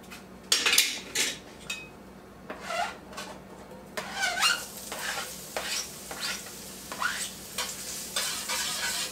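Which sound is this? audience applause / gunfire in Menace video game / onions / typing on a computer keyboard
onions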